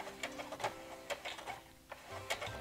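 A sewing machine backstitches the seam of a fabric document pouch, a quick uneven run of needle clatter and taps at close range.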